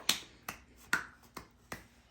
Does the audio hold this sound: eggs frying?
no